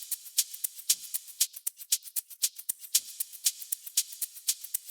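A techno hi-hat plays alone, drenched in long reverb and delay: crisp, bright ticks in a steady fast pattern, each trailing a washy shimmering tail that blurs into the next and leaves a constant high haze.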